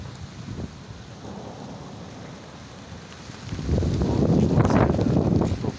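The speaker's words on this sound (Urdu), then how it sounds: "طوفان بھی ہے اور بارش بھی ہے" Thunderstorm with heavy rain and gusting wind in Saidu Sharif, Swat: a steady roar of downpour swells louder and closer midway, with rumbling thunder and wind buffeting the microphone.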